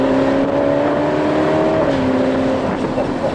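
Ferrari 812 Superfast V12 engine drones loud and close from inside the car, pitch holding steady then dipping slightly around 4,000 RPM, with faint talk beneath.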